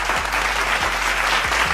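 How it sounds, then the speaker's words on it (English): A burst of enthusiastic audience applause for a show guest called Landlord, dense, close clapping that stays loud throughout with no speech. "Y'all gotta clap it up for Landlord, man."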